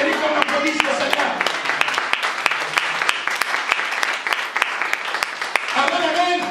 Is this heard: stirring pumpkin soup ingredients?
no